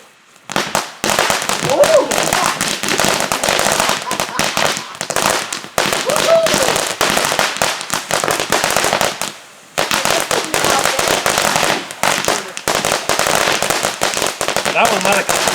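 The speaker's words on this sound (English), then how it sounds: "these are California compliant fireworks." California-compliant consumer fireworks and firecrackers going off in rapid crackling bursts, loud and close, in several long runs separated by brief pauses.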